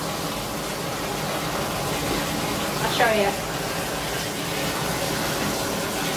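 Water runs steadily from a tap as it heats up, a continuous close gushing hiss filling the whole stretch, with a person speaking briefly over it.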